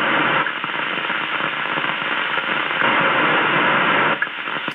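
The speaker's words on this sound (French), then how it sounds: "il y a toujours la porteuse, merci la porteuse" A 27 MHz CB radio receiving FM fills the speaker with steady, loud hiss and static from an open carrier after the transmitting microphone is released, with no voice over it.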